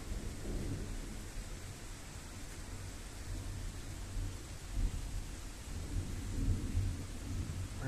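A heavy night thunderstorm over Ingolstadt, steady rain hiss with low rolling thunder rumbles swelling and fading, continuous and fairly loud with no voices.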